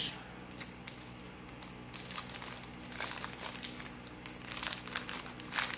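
Blister packaging around a scrapbooking card is opened by hand, giving a close, continuous rustle of stiff plastic crinkling and crackling with sharper bursts toward the end.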